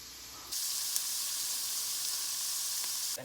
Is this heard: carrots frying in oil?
yes